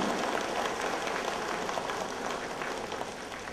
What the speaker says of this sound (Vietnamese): Xin các vị hãy cho một tràng vỗ tay để chúc mừng hai vị tác giả nữa.